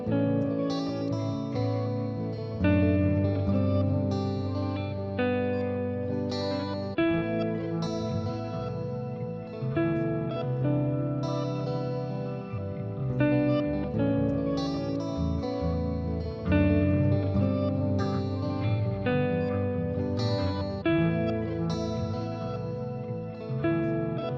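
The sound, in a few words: bass line played through guitar effects pedals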